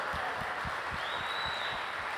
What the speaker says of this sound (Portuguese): Palmas para o seu Adalberto.